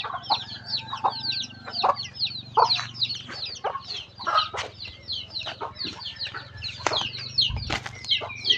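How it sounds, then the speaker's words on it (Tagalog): Pet chickens, a rooster among them, cluck and chatter in steady, overlapping bursts close by, with occasional louder calls and brief wing flaps over a low constant hum. "Alagang manok."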